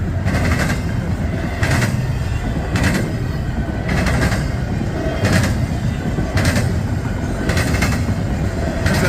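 An eastbound CSX intermodal freight train led by two locomotives speeds past close by in Galatea, Ohio, a steady heavy roar with regular clickety-clack beats from wheels crossing rail joints.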